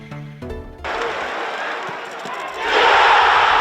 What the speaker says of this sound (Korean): 관중들의 함성이 가득 찬 축구 경기장